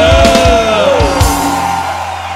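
A concert crowd at a 30th-anniversary show shouts and cheers in a broad, loud roar, with rising whoops swelling over the music early on before settling into sustained noise.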